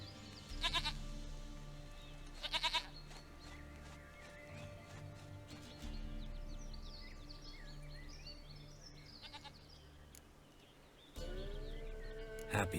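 A goat bleats in The Witcher 3 video game, in several short quavering calls spaced a few seconds apart over a steady low ambient background, with faint bird chirps.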